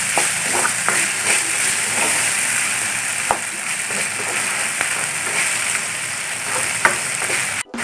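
Tomatoes and shallots sautéing in oil for okra (vendaikka) sambar, a steady close sizzle and frying crackle with occasional soft stirring clicks and no talking.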